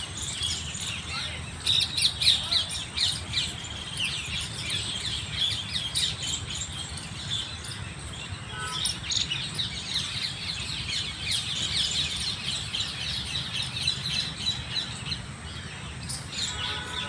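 Wild birds sing and chirp in an evening outdoor setting, with many bright overlapping calls and trills throughout, some near and some distant, over a faint steady insect hum.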